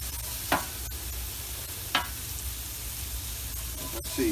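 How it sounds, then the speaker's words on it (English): Marinated steak meat cooks in a pan with a steady sizzle and hiss, broken by a few sharp clacks of a utensil stirring and scraping, close up with no one talking. "when that meat starts to cook, as you see, it's releasing all that juice, whatever it's been marinated in"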